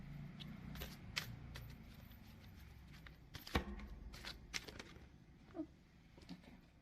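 Tarot cards shuffled by hand, a steady run of soft papery riffles and slaps with a few sharper snaps, close and fairly quiet, no talking.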